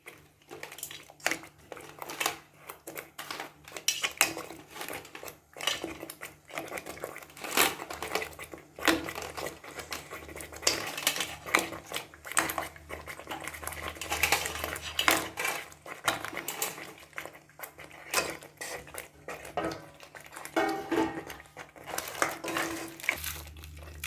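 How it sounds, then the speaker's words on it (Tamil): Crab pieces tumble into a pan of crab masala with Kashmiri chilli powder and green chillies, giving a long stretch of dense clattering, scraping and knocking of shells against metal, close and fairly loud, with no talk. "இப்போ நண்டு அதில் போட்டுருவோம்"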